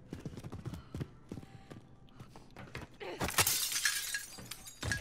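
Glass shatters in Call of Duty: Modern Warfare, a sudden bright crash of breaking panes with scattered tinkling fragments, following several sharp footstep-like thuds during gameplay.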